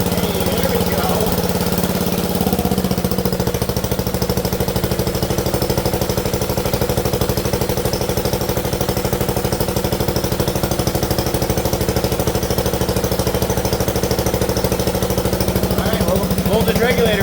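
A Wizard riding mower's small engine runs steadily at close range, a rough rapid chugging drone that holds an even pace for the whole stretch, with a faint voice underneath.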